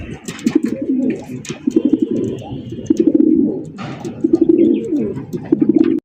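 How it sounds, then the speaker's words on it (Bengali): An Ice Bar Damascene pigeon cooing up close, repeated bursts of low throaty coos in a steady rhythm with short gaps, alongside faint background chirps. "আইসবার দামাসিন কবুতর, তার ডাক, তার কণ্ঠ"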